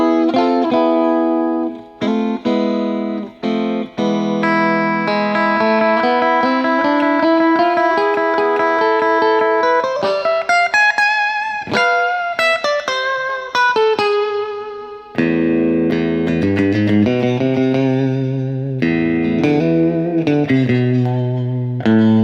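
Electric guitar on an amp's clean setting through a reverb pedal plays sustained notes and descending Phrygian-mode runs, each note ringing into a lush washing tail, loud and continuous.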